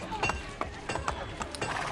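Horse hooves in the video game Assassin's Creed Brotherhood clip-clop in a quick, uneven rhythm, close and moderately loud, over game ambience.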